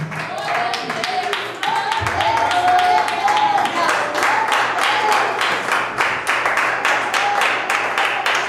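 A Pentecostal church congregation at an anniversary service claps in rhythmic, steady unison, bright hand claps repeating over sung and spoken voices.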